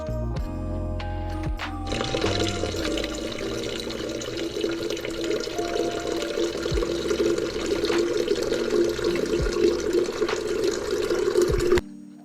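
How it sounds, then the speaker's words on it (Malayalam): Tap water pours steadily into a vessel of urad dal and rice set to soak in a flat kitchen, a close, continuous splashing rush for about ten seconds that stops abruptly. "അപ്പം ഞാൻ ഇതുപോലെ ഉഴുന്നും അരിയൊക്കെ വെള്ളത്തിലിടും."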